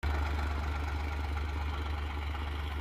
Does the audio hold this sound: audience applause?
no